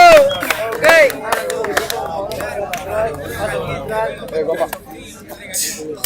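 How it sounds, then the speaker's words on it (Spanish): Crowd noise at a freestyle rap battle in Florencio Varela, with loud bursts of clapping and cheering at the start that settle into a busy, steady hubbub of voices. "Aplauso, gente, para los competidores, guacho."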